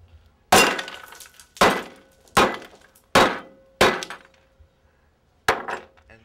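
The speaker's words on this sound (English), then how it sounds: "And that is one shattered fruitcake." Six sharp hammer blows strike a fruitcake frozen in liquid nitrogen, each a brittle shattering crack with scattering debris, spaced about a second apart.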